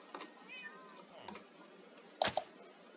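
A cat meows in a Minecraft game, a couple of soft mews followed by a louder, sharper pair of meows near the end.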